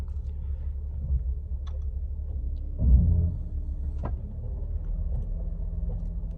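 Jeep with 5.13 gears crawling in 4 low with the brake released, a quiet, steady low engine rumble with a brief swell and a couple of soft clunks.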